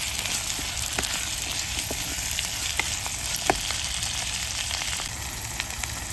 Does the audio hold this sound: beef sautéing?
yes